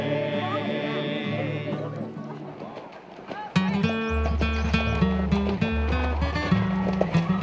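Horses on a dude ranch clip-clop in trotting rhythm under music and narration, the hoofbeats close and steady while a voice speaks over them.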